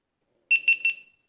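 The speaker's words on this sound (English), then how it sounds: "Oh, that's a loud beep." A GoPro HERO11 Black action camera gives a loud power-on beep, three quick close pulses in a clear high tone, alone in near silence.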